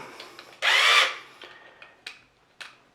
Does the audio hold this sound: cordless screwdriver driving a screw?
yes